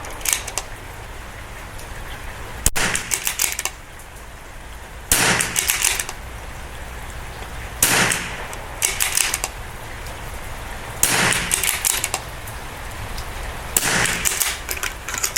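Strings of sharp .22LR rifle shots with match ammunition at an outdoor range, fired in several rapid clusters separated by quiet pauses, each burst made of close, crisp cracks.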